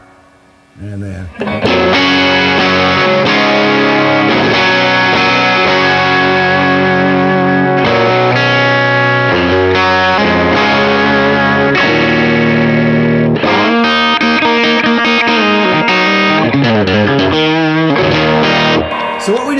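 An electric guitar plays through a Skylark Special amp at a high gain setting, with a thick, distorted, crunchy tone. Chords and notes ring loud and steady for almost twenty seconds and nobody talks over them.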